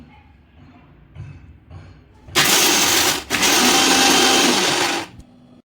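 A kitchen grinder whirs loudly for about three seconds, briefly pausing once, while finely grinding cashews and almonds for dink and methi laddoos, after some quiet handling sounds.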